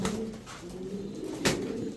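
A large male pigeon coos softly and close by, a low throaty call repeated through the moment, with faint background rustle.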